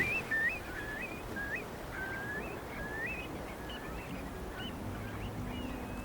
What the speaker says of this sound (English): And among them is Europe's largest wading bird, the curlew.